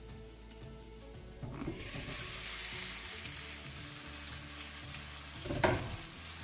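Spicy Sri Lankan-style chicken curry sizzles in a covered pan without added liquid, a steady frying hiss that swells after a moment, with a brief clatter of the lid or spoon near the end.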